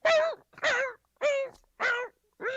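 A voice imitates a warg, a wolf-like beast, whimpering as it tumbles down a cliff: five close, whiny yelps in a steady rhythm, each dipping at the end, with short silences between.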